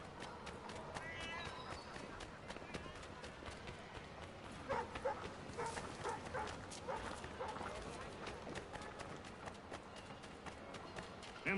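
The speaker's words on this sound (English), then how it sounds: "God-forsaken dogs!" Dogs bark and yip in a crowded Boston country fair in Assassin's Creed 3, mixed with hoofbeats, footsteps and townsfolk chatter, with the barks fairly close.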